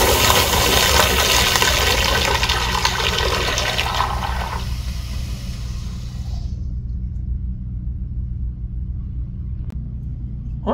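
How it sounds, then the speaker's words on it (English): A second-generation American Standard Jetbrook urinal flushes with a loud, steady rushing of water that holds for several seconds, then quickly thins out and stops. "Honestly, the flush is not that bad."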